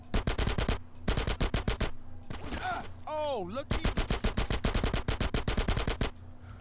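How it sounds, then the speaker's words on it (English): Rapid bursts of automatic gunfire from a GTA San Andreas shootout, loud and repeated in long rattling volleys with a brief swooping electronic sound in the middle. "Bullets everywhere in my face!"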